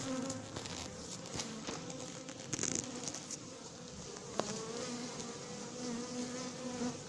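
Honeybees from a swarm drone steadily and close while being hived into a hive box with a queen excluder, a dense continuous buzz with small knocks and handling sounds, and no speech.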